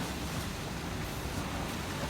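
Ocean water at a Caribbean beach in Barbados gives a loud, continuous roar of surf, dense and steady with no distinct breaks, mixed with some wind.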